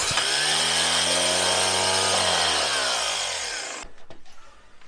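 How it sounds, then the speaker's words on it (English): A second starter motor for a Jaguar V12 spins on the bench with a loud, steady whine and harmonic hum for almost four seconds, then cuts off and winds down to quiet. "I actually think it sounds healthier."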